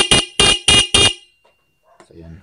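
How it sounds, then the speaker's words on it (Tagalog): Stock motorcycle horn wired straight to the battery sounds four short loud honks in quick succession, then falls silent before faint talk and handling noise begin. "Rinig nyo naman guys, ano, tumunog yung ating stock horn."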